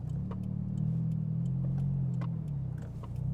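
A 400-horsepower automatic turbocharged FRS running on E85 accelerates hard, its steady low engine drone humming close inside the cabin with faint ticking and small clicks scattered over the top.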